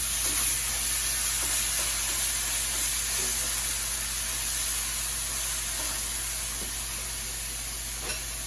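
Ground meat sizzling in a hot frying pan while a spatula breaks it apart, a steady close hiss with faint scraping taps throughout, no voices.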